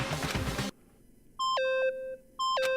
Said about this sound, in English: Stop that goddamn beeping and say something.